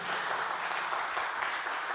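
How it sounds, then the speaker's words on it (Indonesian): Congregation applauding during a Sunday worship service in a church, a steady wash of many hands clapping at moderate loudness with no talking over it. "Beri tepuk tangan buat Tuhan Yesus."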